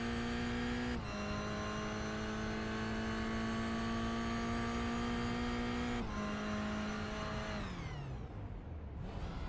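Toyota GR86 race car engine in iRacing, a steady high drone that shifts pitch down at gear changes and winds down near the end as the car brakes at Circuit Gilles Villeneuve, loud and continuous with no talk.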